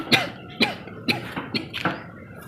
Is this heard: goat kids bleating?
no